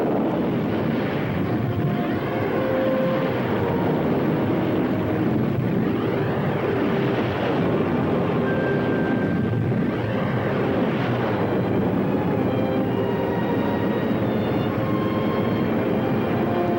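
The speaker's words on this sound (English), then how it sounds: "I'll tell you when to start the engine." A spaceship's engines rumble to life in a 1960 sci-fi film, a steady broadband roar with sweeping whines and tonal hums rising and falling over it, loud and continuous with no voices.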